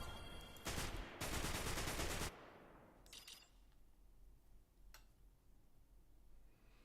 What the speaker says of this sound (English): I'm firing my weapon in the background.